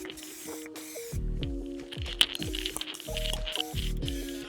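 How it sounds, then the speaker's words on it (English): Spray gun laying a first coat of clear lacquer onto a Yamaha R6 motorcycle fuel tank, producing short bursts of hissing spray separated by pauses, with low mechanical thumps and tonal hums mixed in. "Now I put the first layer of clear coat on."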